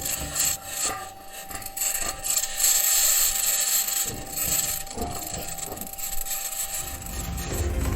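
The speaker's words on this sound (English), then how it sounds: "along with the noise of the metal wheels rolling on a rocky planet's surface, Perseverance has captured an unidentified, high-pitched scratching sound" Metal wheels of NASA's Perseverance rover roll over rocky Martian ground, giving a steady close rasping and grinding with a high-pitched scratching layered on top across the whole stretch.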